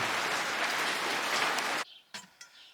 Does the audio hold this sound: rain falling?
yes